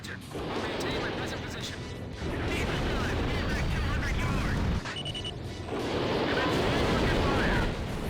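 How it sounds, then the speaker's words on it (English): Rockets firing from an aircraft in the Ace Combat 5 flight combat video game, a dense, roaring blast sustained over engine and explosion noise, loud and continuous with brief dips. "Did I just get a misfire on the rockets?"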